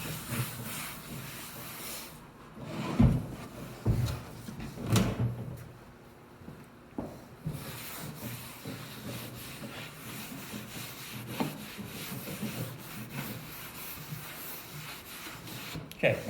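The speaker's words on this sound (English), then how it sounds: "So let me wipe this off here." Cloth or hand rubbing across a wooden cornhole board, a few scuffing wipes and soft knocks near the start, then quieter intermittent brushing, all close and faint.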